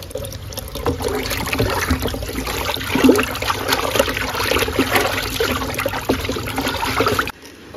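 Tap water runs in a steady splashing stream while freshly bought fish is rinsed, close and fairly loud, shifting slightly as the fish is moved, then cutting off abruptly near the end.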